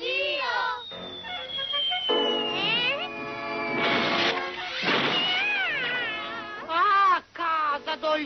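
An animated cartoon cat meows and yowls in a series of loud, wavering, rising and falling cries, some drawn out into caterwauls, mixed with character voices speaking.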